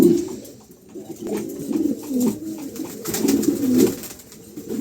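Close, loud pigeon cooing in low rolling bursts, several calls overlapping and pulsing with no talking.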